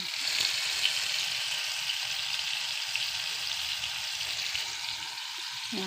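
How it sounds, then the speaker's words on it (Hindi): Potatoes and pointed gourd fry in a kadhai with a steady, close hiss of sizzling oil and faint stirring clatter throughout. "आलू पटल का सब्जी बना रहे हैं। कढ़ाई में भूनने के लिए डाल दिए हैं।"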